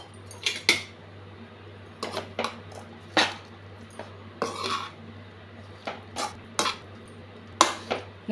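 Beetroot poriyal being stirred and sautéed in a pan, a spoon scraping and clinking against the metal in scattered bursts over a steady low hum, with no voices.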